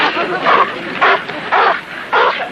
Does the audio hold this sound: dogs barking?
yes